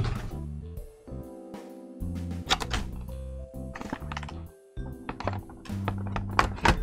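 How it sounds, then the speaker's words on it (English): A Lexip 3D Pro mouse being pulled out of its packaging: plastic rustles, soft thunks and clicks of the box and tray, close and intermittent, without talk. "Now this comes out of the box really easily, I didn't have to cut anything."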